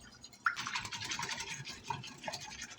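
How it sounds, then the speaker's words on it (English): An egg being whisked into buttermilk in a bowl for Irish soda bread: a steady, close, scratchy swishing with quick rhythmic strokes and a small clink near the start, alone with no voices. "we are going to mix up an egg into the created buttered milk. We're whisking it"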